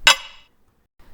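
A single bright, glassy high percussion hit from a pop drum programming beat, sharp attack decaying quickly, followed by silence and a faint trailing sound.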